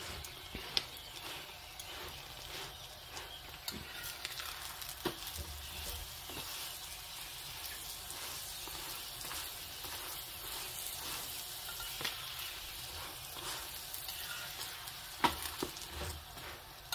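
Mooli paratha frying in ghee on a griddle makes a steady, quiet sizzle with a dense crackle throughout and occasional small pops and taps.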